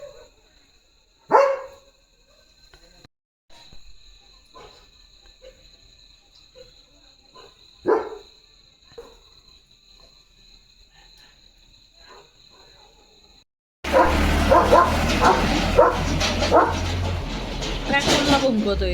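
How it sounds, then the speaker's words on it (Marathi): German Shepherd dog at night barking at passing vehicles, a couple of loud separate barks over quiet background insects, followed by a sudden loud burst of vehicle noise with a person talking. "गाड्यांना भुंकवतोस?"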